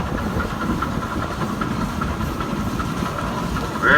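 A Minneapolis steam traction engine chugs past in a parade, a steady rumbling, rhythmic mechanical churn with fast beats close by, swelling louder in the final moment.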